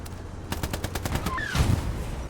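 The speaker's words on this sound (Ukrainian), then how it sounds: "Ось сюди в землю вистріл." A tank cannon firing in the Hell Let Loose video game: a sharp burst of loud repeated reports followed by a heavy low boom, close and without speech.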